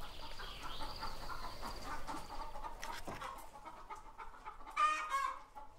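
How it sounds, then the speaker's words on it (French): Free-range hens, about six hundred of them, cluck and murmur continuously inside a henhouse, with a louder agitated squawk near the end over the steady flock chatter. "Impossible d'entrer dans ce poulailler sans se faire remarquer par ces 600 poules libres mais inquiètes."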